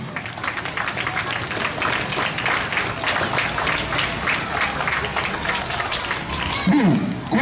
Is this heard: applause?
yes